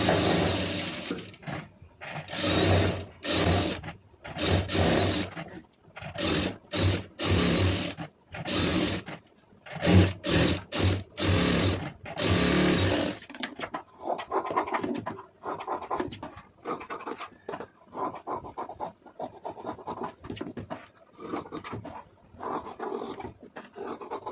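A sewing machine stitches around a cotton lined blouse in loud, rapid bursts separated by short pauses, then carries on more softly and continuously in the second half, with nobody speaking.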